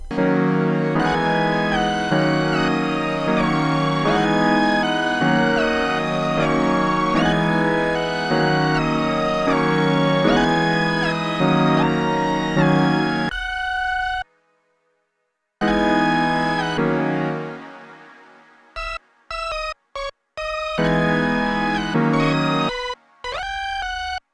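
Busy synth lead pattern in an FL Studio beat, with rapid, bright melodic notes running over a full mix, then a brief dropout and choppy stuttering bursts near the end, loud and without talking.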